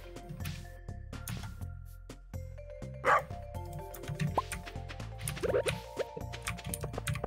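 A pet dog in the farming game Stardew Valley whines and yips in short bursts, with small barks over background game music and effects.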